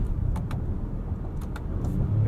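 A 2022 Acura MDX Type S in sport mode accelerates, its muted engine a steady low rumble heard from inside the cabin, with a few faint clicks over the drone.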